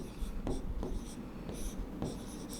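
Chalk or marker writing on a classroom board during a chemistry lesson, heard as repeated scratchy strokes in short bursts, fairly close, with no talk over it.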